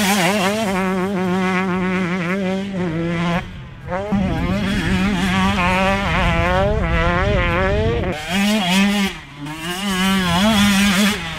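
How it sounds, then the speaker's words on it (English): A 2024 KTM 125SX two-stroke dirt bike engine screams loud and close, its buzzing note climbing and falling through repeated revs and gear shifts, with brief dips between bursts. "Today we're testing the 2024 KTM 125SX two-stroke."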